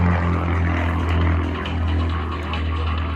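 Pitts aerobatic biplane, a homebuilt flown in a slow roll down the 500-foot line at a warbirds airshow, its propeller engine droning loud and steady throughout with a low harmonic hum and no talk.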